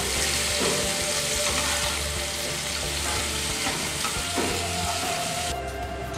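Sliced onions fry in oil in a pan for a spicy Bengali katla fish curry, giving a close, loud, steady sizzle that carries on without a break and without any talk.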